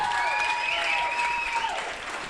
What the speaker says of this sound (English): I think Joy deserves a round of applause